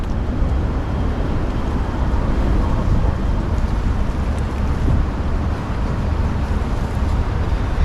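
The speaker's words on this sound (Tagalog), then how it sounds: "Oh, lakas pa po ng hangin yan." Strong wind roars steadily for several seconds and buffets the microphone with a dense, low rumble and no pauses.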